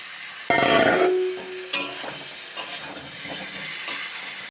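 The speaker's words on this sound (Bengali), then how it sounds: "আমি আলুগুলো দিয়ে আবার একটু কষিয়ে নেব" Boiled potatoes tossed into hot oil and spice paste in a pan for a vegetarian aloor dom, a loud burst of sizzle at the start settling into steady frying with a few scraping stirs, no voices.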